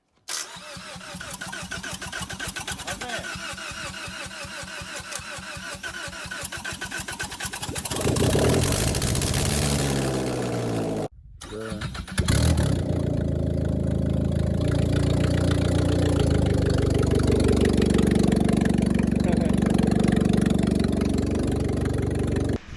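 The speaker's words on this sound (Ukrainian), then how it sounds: "Це те, що машинка завелась" A 2018 Ford Fusion engine cranks and catches, then settles into a steady, rumbling idle that runs on continuously and fairly loud, with no talking.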